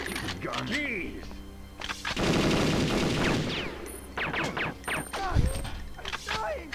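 Gunfire in the video game Perfect Dark, a sustained burst of rapid shots in the middle with scattered impacts, mixed with talking voices throughout.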